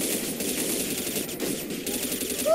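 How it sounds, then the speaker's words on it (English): Rapid gunfire rattles through a Counter-Strike zombie escape match, a dense, continuous stream of automatic shots at steady volume with no pauses, heard from a short distance. "Are you hearing all the gunshots?"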